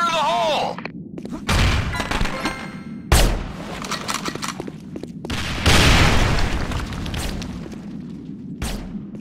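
Grenade blast in a tactical shooter game after a shouted warning, several booming detonations and gunfire-like bursts thumping through the mix, with voices talking over the action.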